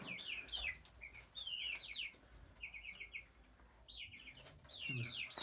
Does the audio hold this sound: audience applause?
no